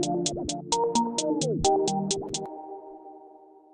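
In FL Studio, a Panda hi-hat plays a pattern with alternating velocities, about eleven quick evenly spaced ticks over a melodic synth line. Both stop together and leave a fading tonal tail.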